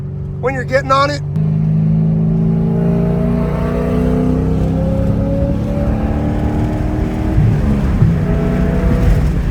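A C6 Corvette with a loud Speed Engineering exhaust accelerates hard in one long, steadily rising engine pull, close and loud. A brief sharp vocal sound comes just before the engine takes over.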